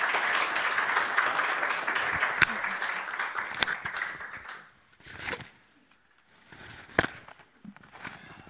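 Applause from the audience at a university Three Minute Thesis final round, steady dense clapping that thins out into a few scattered claps and a brief pause.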